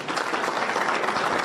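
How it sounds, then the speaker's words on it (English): Audience applause at a witness testimony hearing about alleged voter fraud in Gettysburg, Pennsylvania: a short, dense burst of many hands clapping, steady and fairly loud. "No, don't clap, guys. Don't clap."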